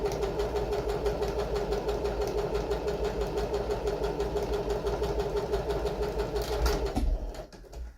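A sewing machine runs steadily and loudly while stitching a lapped seam in two overlapped pieces of fabric, a continuous mechanical whir that cuts off near the end.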